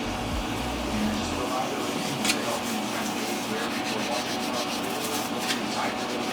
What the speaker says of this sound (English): a lot of it's going to need to be scraped with this little blade